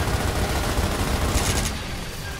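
Turret gunfire in the video game Gears of War, a dense, continuous rattle of rapid shots with a brief brighter burst midway, fairly loud and steady throughout without talk.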